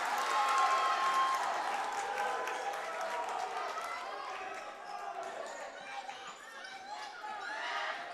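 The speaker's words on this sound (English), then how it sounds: "You can probably hear the crowd going wild on both ends" Crowd at a varsity boys high school basketball game between the Nixyaawii Golden Eagles and Union Bobcats, a loud, sustained roar of cheering and shouting in the gym that swells and eases over several seconds.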